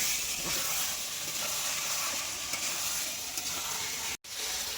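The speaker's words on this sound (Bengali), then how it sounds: "মাংসতে তেল ছেড়ে দিয়েছে এখন নেড়ে নেব" Goat meat fries in released oil while being stirred in a pot, giving a continuous soft sizzle and hiss with light scraping, cut off by a brief dropout near the end.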